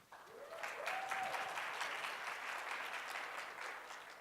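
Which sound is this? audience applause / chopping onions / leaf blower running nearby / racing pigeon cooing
audience applause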